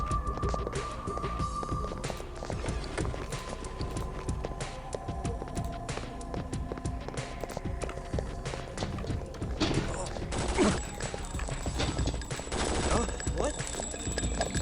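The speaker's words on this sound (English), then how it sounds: "That guy has a chain gun." Chain gun fire in the video game Vampire: The Masquerade – Redemption, a dense run of rapid automatic bursts with a steady throbbing hum beneath, loud and continuous for about fifteen seconds, with a voice talking over it.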